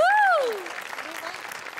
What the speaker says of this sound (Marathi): त्यांच्यासाठी एकदा टाळ्या वाजूया